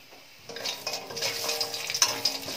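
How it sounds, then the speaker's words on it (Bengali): Bori lentil dumplings fry in hot mustard oil in a wok, starting quiet, then a lively sizzle with scraping stirs and light metallic knocks close up, no talking. "এবার বড়িটা একটু ভেজে নিই সবার আগে।"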